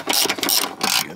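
A ratchet clicks rapidly and loudly in quick repeated bursts while backing out 10 mm bolts on a VW Mk3 during engine removal, close up with no talking.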